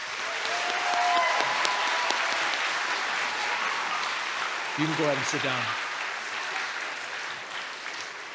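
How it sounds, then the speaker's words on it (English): Audience at a school closing ceremony applauds a group of fifth graders with steady, even clapping throughout; someone speaks briefly over it midway. "let's give them a round of applause"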